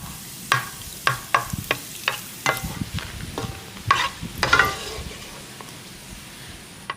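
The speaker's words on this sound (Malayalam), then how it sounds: "അല്പം നെയ്യ് ഒഴിച്ചിട്ട് അണ്ടിപ്പരിപ്പ് മുന്തിരി വറുത്തെടുക്കാം" Cashews and raisins sizzle softly in hot ghee while a spoon scrapes and taps the pan in a steady series of stirring clicks.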